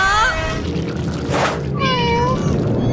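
Cartoon cat meowing in an animated action series, a drawn-out wavering yowl that rises and falls, loud and close, with a second shorter meow following after a brief noisy burst.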